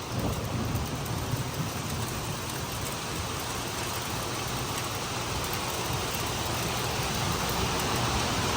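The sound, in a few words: heavy rain and hail on a metal roof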